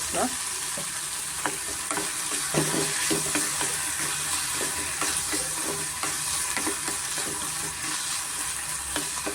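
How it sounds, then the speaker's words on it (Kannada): Ridge gourd frying in oil with turmeric for chutney, a continuous loud crackling sizzle with occasional spatula stirs, close and uninterrupted. "ಚೆನ್ನಾಗಿ ಎಣ್ಣೆನಲ್ಲಿ ಚೆನ್ನಾಗಿ ಫ್ರೈ ಆಗಿದೆ"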